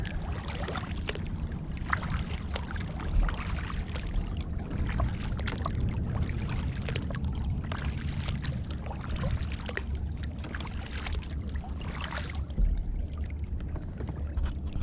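Steady swishing and trickling of water as paddles dip and pull, a continuous soft wash with no talking.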